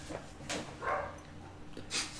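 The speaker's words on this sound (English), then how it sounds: "It just growled at us!" A beast in a video game growls and snarls in a few short rough bursts, moderately close over a low background hum.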